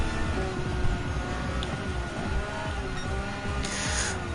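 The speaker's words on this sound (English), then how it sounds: "Just keep listening to the flat 6 engine." A race car's flat-six engine in the Gran Turismo 7 video game drones steadily and loudly at high revs throughout, with faint tire noise and no talking.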